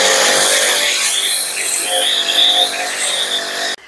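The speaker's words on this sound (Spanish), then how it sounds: "Ya la conecté a la de alta presión y a la manguera de la corriente de agua no común." Pressure washer spraying pre-wash foam over a Tesla, hooked up to high-pressure and ordinary water hoses: a steady, loud hissing spray runs throughout and cuts off abruptly at the end.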